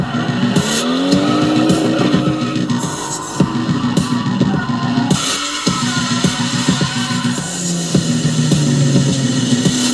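A 2JZ-powered BMW E36 drifting at Yas Marina Circuit in Abu Dhabi, engine roaring loud and close with rising and falling revs and repeated tire squeals as it slides through the corners.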